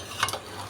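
A potato curry with plenty of oil and a thin gravy being stirred in a pan, a brief soft scrape and clink of the spoon against the pan over quiet background.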